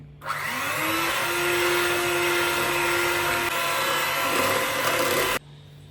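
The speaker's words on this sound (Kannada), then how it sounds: "ಇದನ್ನೆಲ್ಲ ಇವಾಗ ಬ್ಲೆಂಡ್ ಮಾಡ್ಕೊಳ್ಳಿ" A countertop blender whirs steadily through chocolate brownie batter with flour, vanilla essence and baking powder, a loud, even motor roar with a rising pitch that runs for about five seconds and then cuts off abruptly.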